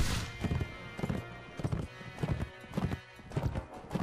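Rhythmic hoofbeats of a galloping horse in the video game Mount & Blade: With Fire and Sword thud in regular clusters, close and clear, with no talking over them.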